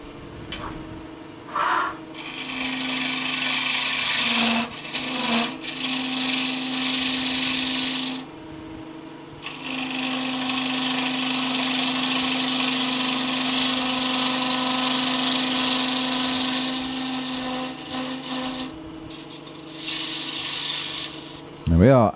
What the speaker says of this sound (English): Turn the lathe speed up a little bit.